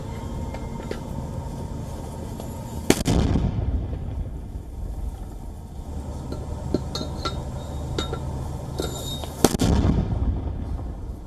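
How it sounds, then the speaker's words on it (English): Mortar rounds fired by militants in Gaza, two sharp loud launch blasts several seconds apart, each with a rumbling tail, over steady outdoor background noise and faint scattered clicks. "a video, it says, which shows militants allegedly firing mortars in Gaza"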